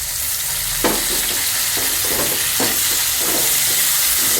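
Onion and tomato sizzle steadily in a hot pan with curry leaves, green chilli and drumstick for a chickpea curry, with a bright constant hiss and intermittent scraping and stirring strokes punctuating the frying.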